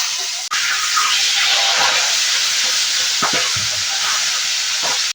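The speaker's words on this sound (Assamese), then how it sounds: "এতিয়া মই পিয়াজখিনি ৰঙা কৰি ভাজি লম" Steady hiss of onions frying in hot oil, a continuous loud sizzle with a few faint clinks of a utensil.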